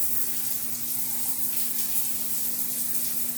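Water runs steadily from a campground bathroom faucet, a constant hiss with a low steady hum beneath it, close and moderately loud, with no talking.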